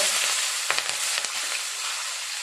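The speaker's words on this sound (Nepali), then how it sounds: "त्यसपछि अघि काटेको अदुवा, लसुन अनि खुर्सानी, हरियो खुर्सानी चाहिँ फुलाउनुपर्छ।" Ginger, garlic and green chili with turmeric fry in hot oil, giving a steady close sizzle with a few sharp stirring clicks and scrapes. No one speaks.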